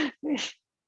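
A voice mimics a quick two-part sneeze, a breathy 'ha' followed by a hissing 'choo', close up and then silence.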